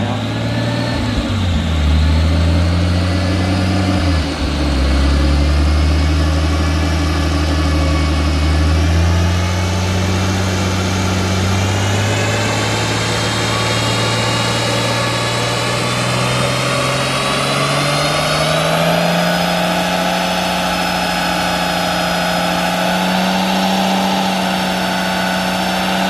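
A Nissan Skyline R33 engine runs on a dyno, loud and close, idling with a dip in revs before rising steadily to a higher, sustained pitch over about half a minute.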